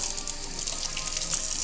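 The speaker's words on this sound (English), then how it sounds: "I run the water, by the way, just a little bit to kind of make sure they're clean" Tap water runs steadily into a kitchen sink while jumbo shrimp are rinsed under it, a soft, even hiss of moderate level with faint splashes and no talk.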